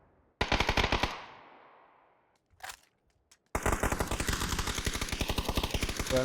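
Automatic weapon fire in the battle-royale game PUBG during a tournament match, with a loud rapid burst, a short pause and a brief shot, then a long sustained stream of rapid gunfire close by.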